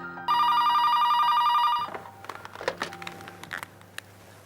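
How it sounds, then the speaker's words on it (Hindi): An old-style telephone bell rings loudly in one continuous burst of about a second and a half, then stops, followed by faint rustling and handling noises. "फोन की घंटी।"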